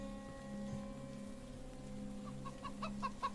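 A chicken clucks in a short burst of quick, soft clucks near the end, heard over a steady low hum and hiss.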